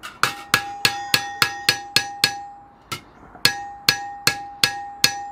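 A tinker's hammer strikes metal with its flat side, a steady series of sharp ringing blows with a clear metallic tone, about a dozen hits in two runs separated by a short pause, loud and close with no talk.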